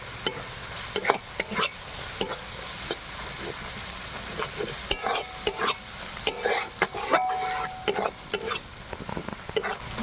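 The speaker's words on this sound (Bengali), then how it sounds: "এবারে আমি সব মশলাগুলো একসঙ্গে কষিয়ে নেব" Spices sautéed and stirred in a pan for an egg and potato curry: a steady sizzle of frying with repeated scraping stir strokes, close and fairly loud, with no talk.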